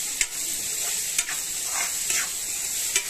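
Ker berries fry in oil over a wood-fired clay stove, making a steady close hiss with a few sharp clicks of the spoon against the pan.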